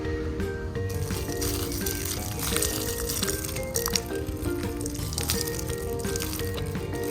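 Pressurized water sprays over a painted tumbler during a peekaboo powerwash, making a continuous close hiss and splatter for the whole stretch with a steady tonal layer beneath.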